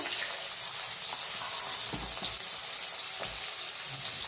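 Cumin, finely chopped onion and crushed garlic frying in a hot pan for a village-style cluster bean curry, a steady soft hiss of sizzling oil with a few faint clinks, alone without talk.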